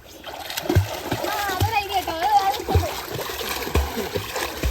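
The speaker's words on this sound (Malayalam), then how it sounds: "ഇപ്പൊ വെള്ളം തെറിപ്പിയല്ലേ?" Water splashes rhythmically in a series of slaps during a swimming lesson as someone talks and shouts playfully over the splashing.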